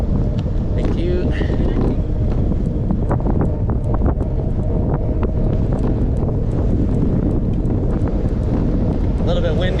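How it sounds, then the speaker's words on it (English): Heavy, constant wind buffeting on the microphone while cycling over a bridge in Glasgow, a loud low roar that fills the whole clip with faint clicks and rattles underneath, and a rider speaking briefly over it. "A little bit windy, but very pleasant."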